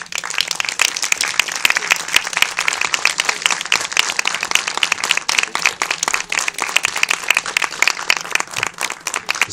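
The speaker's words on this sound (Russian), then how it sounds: "Я прошу их встретить аплодисментами." An audience at a film premiere applauds as the filmmakers are welcomed, a loud, sustained burst of dense clapping with sharp individual claps close by, continuing steadily without pause.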